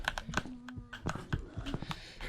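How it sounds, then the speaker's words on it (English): A computer keyboard clatters with rapid, irregular key presses during PC gameplay of Afraid of Monsters: Director's Cut, clicking steadily and close, alongside faint tonal game sounds. "I hope the keyboard isn't too loud"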